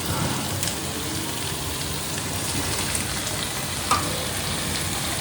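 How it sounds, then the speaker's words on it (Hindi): Potatoes drop into diced suran yam frying in masala in a pan, with one soft thud over a dense, steady close-up sizzle that carries on unbroken without talk. "दो मिनट तक सूरन को मसाला के साथ पकाने के बाद अब मैं इसमें आलू डालूंगी"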